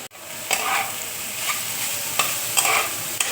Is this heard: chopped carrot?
yes